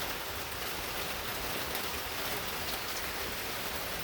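Steady rain falls outdoors, a dense, even hiss of drops pattering on surfaces nearby, continuous and fairly loud with no voices or other sounds.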